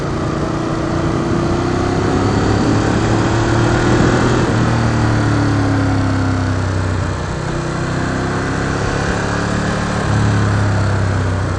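Motorcycle engine under way, droning steadily with rising and falling pitch as the rider shifts up through the gears, steady and close with no talking.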